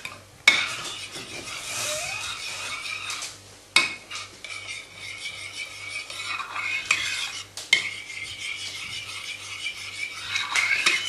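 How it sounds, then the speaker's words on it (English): A spoon stirs mayonnaise, honey and mustard together in a bowl for a sauce, with continuous close scraping and a few sharp clinks against the dish. "mix those together to create the sauce to accompany our almond covered pork chops"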